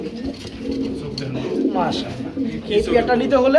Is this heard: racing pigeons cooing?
yes